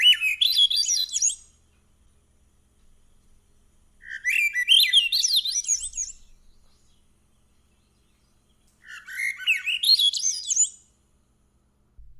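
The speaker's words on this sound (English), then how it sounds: "You have just heard the Swainson's thrush." Three bursts of a Swainson's thrush's rising, flute-like spiraling song, clear and alone, separated by short pauses of silence.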